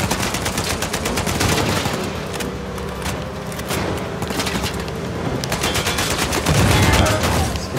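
Rapid gunfire from an AK rifle and other weapons in an Uncharted 4 firefight, with bursts and single shots crackling continuously over about eight seconds, loud and dense amid game ambience.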